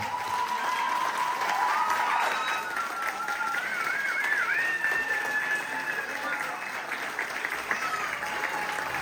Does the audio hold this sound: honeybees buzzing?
no